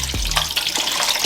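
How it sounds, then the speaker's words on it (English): Water poured from a tap into a pan for steaming lemon-rubbed fish with vegetables, a steady close splashing rush running for over a second without any talk. "I'm going to add some more water"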